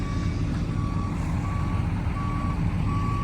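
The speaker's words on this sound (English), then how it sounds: "Back the truck up to about right here." A truck backing into position sounds its reversing alarm, a steady run of evenly spaced loud beeps over a rumbling engine.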